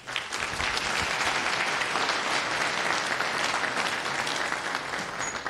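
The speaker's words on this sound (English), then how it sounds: "So round of applause for him." A tech-talk audience gives a steady, even round of applause for the presenter of a session on Git, databases and indexes, with sustained, moderately distant clapping from many hands and no speech.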